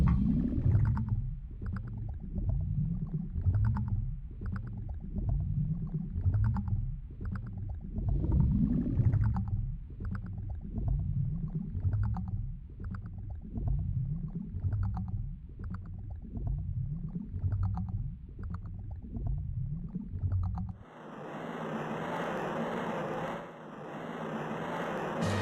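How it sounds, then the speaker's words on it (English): Morpha, the giant aquatic amoeba boss of the Water Temple in Zelda: Ocarina of Time 3D, accompanied by deep, pulsing, watery boss music that throbs in a slow steady rhythm, then shifts into a brighter, noisier burst near the end. "Giant aquatic amoeba, Morpher"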